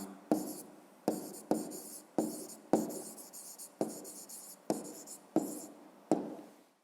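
Pen writing a school maths rounding exercise on paper, a series of about nine short scratchy strokes in quick bursts with brief pauses, close and fairly quiet, no talking.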